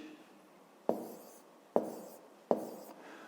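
A pen writes numbers by hand on paper during a fifth-grade maths exercise, three sharp taps or strokes spaced under a second apart, close and quiet, with no talk.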